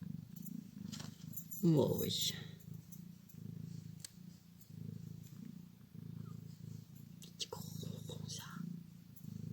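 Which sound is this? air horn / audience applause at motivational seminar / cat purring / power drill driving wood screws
cat purring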